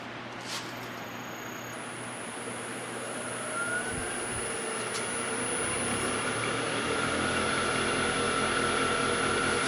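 An epoxy workpiece with a wasp nest cast inside spins up on a lathe, a steady broadband whir and rush that builds gradually louder, with a faint whine rising in pitch as it gathers speed.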